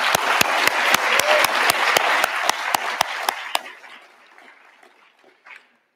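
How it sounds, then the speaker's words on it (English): An audience at a blockchain community conference applauds, with one loud, rhythmic close clapper over a dense crowd that fades out after about three and a half seconds, followed by a brief faint sound. "Can we have one more round of applause?"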